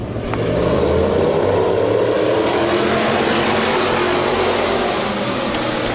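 Economy Modified race cars roll toward the green flag for an 8-lap heat at Midvale Speedway, a loud, steady roar of several engines droning together with rising revs.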